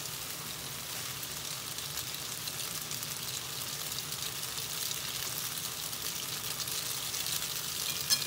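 Pasta stir-fries in a pan, giving off a steady, even sizzle and crackle, like light rain, with no voices, swelling slightly toward the end as the moisture cooks off.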